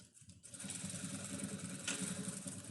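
A sewing machine runs steadily, backstitching the strap of a lunch bag, with an even, fairly quiet mechanical whir and a brief louder tick near the end.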